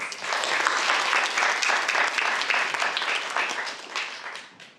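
An audience applauds a speech competition judge, a dense sustained wave of clapping that fills the room and slowly fades at the end.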